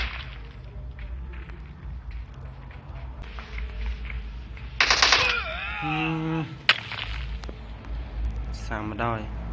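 Machine gun fire in PUBG Mobile's zombie mode, a video game, with short bursts of rapid shots and sharp cracks standing out over game noise and excited talking.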